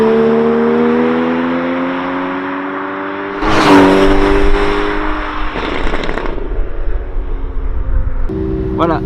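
A Porsche Cayman S engine drones with steady rising harmonics, then revs hard into a loud roaring burst before settling back to a rough idle.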